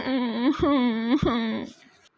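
A young boy cries in close, wavering sobbing bursts that rise and fall three times before trailing off.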